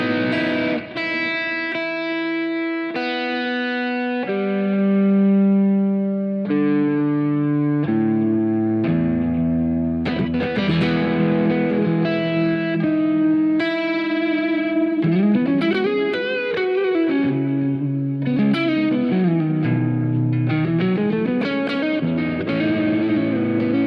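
A red electric guitar plays through a Sir Woodshed compressor in the signal chain, with sustained clean notes and chords that glide and bend, colored by chorus-like effects and reverb, heard alone at a moderate level.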